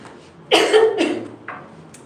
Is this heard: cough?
yes